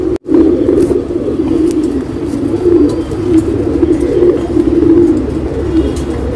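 A female pigeon cooing close by, a run of soft, low, throaty coos repeated in a steady rhythm over a quiet background.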